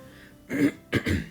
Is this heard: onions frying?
no